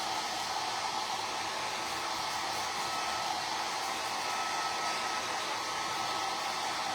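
A hair dryer blows steadily on a handmade Thanksgiving craft wreath to dry it, a constant loud whooshing hiss running unbroken from start to finish with no talking.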